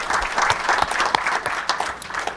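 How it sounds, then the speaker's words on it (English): Audience applause fills a panel session at a conference, steady dense clapping from many hands throughout, fairly loud and close, with no talk over it. "Big round of applause."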